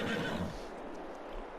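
A horse in Farming Simulator 22 whinnies loudly and close at the start, the call fading into a softer snort and steady ambient hum over the next second.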